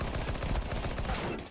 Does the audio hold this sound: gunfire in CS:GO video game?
yes